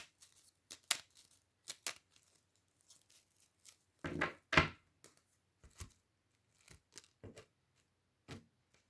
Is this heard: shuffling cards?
yes